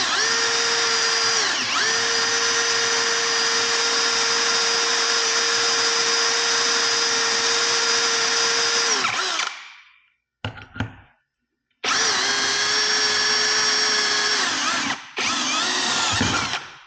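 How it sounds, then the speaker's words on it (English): A power drill whirs steadily at close range for several seconds while drilling pilot holes during a motorcycle strip-down, stops, gives a few short bursts, then runs again in two more stretches. "I'm gonna drill the pilots for both"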